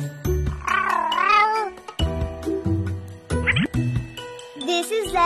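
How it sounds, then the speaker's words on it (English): A cartoonish cat meows several times in a playful kids' alphabet song, the rising, wavering meows repeated over a bouncy synth backing with jingly accents, loud and up front. "C is for cat."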